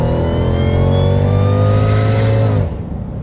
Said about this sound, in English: Wow, towards the red line, it just screams.